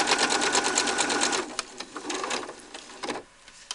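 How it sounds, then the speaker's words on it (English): A serger stitches a seam on a hooded towel, a fast steady mechanical whirr that runs loud and close, then breaks into short stop-start bursts before falling quiet. "and then just sew right back down"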